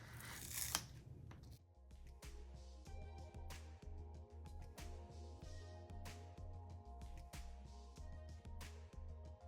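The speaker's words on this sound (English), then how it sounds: "I'm going to start to just peel away the vinyl that is not going on the shirt" Cricut vinyl peeled away from a shirt transfer sheet, giving faint, intermittent tearing and crackling sounds, quiet and close, over a soft steady tonal background.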